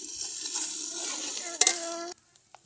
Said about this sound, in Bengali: এখন আমরা মশলাটা সুন্দরভাবে ভেজে নিব।